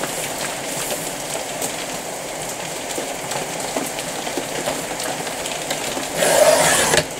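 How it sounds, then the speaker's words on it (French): Rain falls steadily outside an open door, a broad continuous hiss that holds level throughout and swells louder near the end, with no voices. "Vous entendez la pluie, certes."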